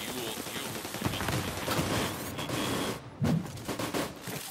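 Dense gunfire in The Division 2 rattles continuously, rapid shots overlapping in a loud fusillade, with a voice talking over the shooting.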